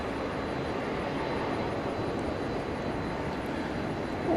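An Airbus A321 jet takes off at night at DFW Airport, its engine roar a steady, broad rush held loud and constant from start to finish with no voices.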